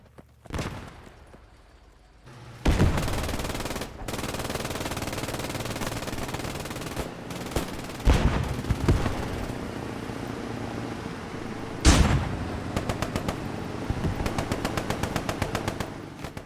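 In a Squad 44 World War II battle, an anti-tank shot and machine-gun fire ring out near an advancing half-track: sharp loud cracks and rapid bursts over a continuous rumble of engine and wind.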